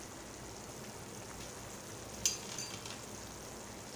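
Water comes to a boil in a pot while Konkan-style upma is prepared, producing a faint, steady hiss of small bubbles with a few soft pops and clicks, alone with no voices.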